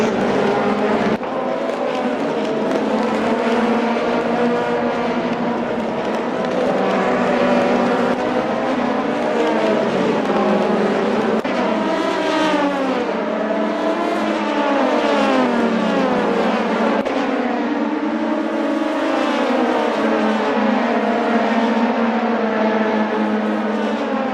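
Several race cars lap Sportsland SUGO circuit during a 160-minute endurance race, their engines loud and sustained, rising and falling in pitch through gear changes as they pass, with no talk.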